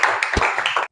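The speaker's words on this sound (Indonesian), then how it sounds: "tepuk tangan" A small group of students claps in a classroom during a bamboo, rattan and recycled-bottle crafts lesson, giving a short burst of several quick, close, uneven claps that stops abruptly.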